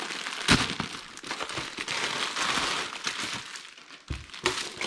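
Plastic parts bags from a Tamiya TA08 Pro touring car kit crinkle and crackle continuously up close, with sharper crunches at several points as the bags are handled.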